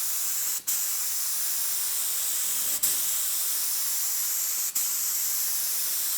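Spray gun laying down a heavy wet coat of paint on a bombe-style chest, a steady loud airy hiss broken by three brief gaps where the trigger is released.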